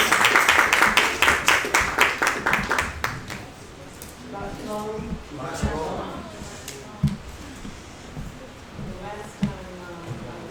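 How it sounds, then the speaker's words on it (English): An audience claps rhythmically for a speaker being welcomed up, the loud regular hand claps fading out after a few seconds as talk and a few scattered claps follow. "Give her a hand clap."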